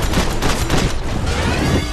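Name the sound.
SMG gunfire in the Max Payne 3 video game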